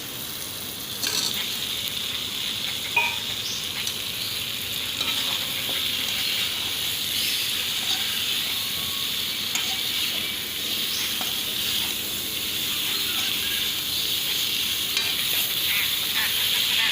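Papaya and fish curry sizzling steadily in a pan as it is stirred, a continuous close frying hiss with occasional scrapes of the spoon throughout, no talking.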